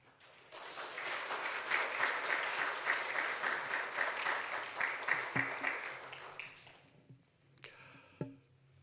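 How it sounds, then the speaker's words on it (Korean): A congregation at an autumn church revival meeting claps loudly to welcome the pastor, a dense, sustained burst that swells for several seconds, then thins and fades out into a few scattered final claps. "이 시간 우리 권수경 목사님 나오실 때 우리 큰 박수로 우리 환영해 주시면 감사하겠습니다."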